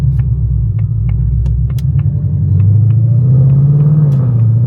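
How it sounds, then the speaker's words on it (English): Supercharged 2024 Ford Mustang GT V8 running on E85 during a light throttle pull, a loud, close, deep rumbling exhaust drone that rises in pitch partway through, with sharp clicks and ticks scattered over it. "we'll do a little light throttle pull here, maybe like half throttle"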